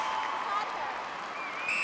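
A crowd applauds and cheers at a Suncorp Super Netball match between the Swifts and Firebirds, a broad, steady wash of clapping in a large arena, with a commentator's voice audible.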